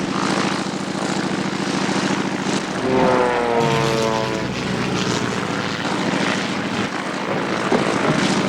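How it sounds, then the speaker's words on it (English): A propeller airplane engine runs loud and steady throughout, a continuous droning roar with a brief rising pitch sweep in the middle, and no voices over it. "the cat is trying to fly the aeroplane."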